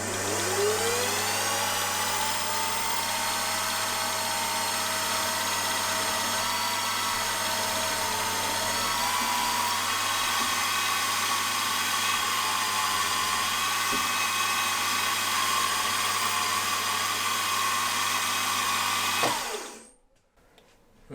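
A 9/64 drill bores holes in an engine cylinder head with a loud, steady high-pitched whine and machine drone lasting about twenty seconds, then winds down and stops near the end.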